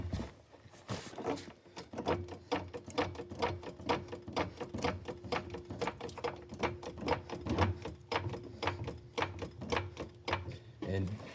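A Harbor Freight floor jack is pumped under a 2012 Subaru WRX, giving a steady run of close, rhythmic clicking strokes that continues throughout.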